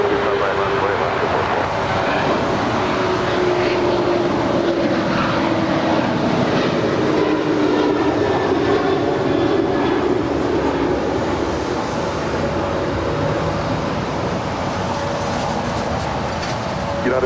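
A jet airliner rolls down runway 25 right at LAX, its engines producing a steady, powerful roar that swells and holds across the whole stretch, while radio voices talk faintly in the background.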